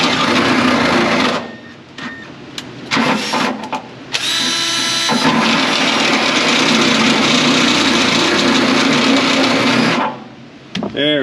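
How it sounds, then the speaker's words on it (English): A power drill bores through metal on a Chevy Silverado Duramax. It gives a close, loud, high whine that stops and starts a few times early on and then holds a long steady run before winding down. "Drill the daylights out of it."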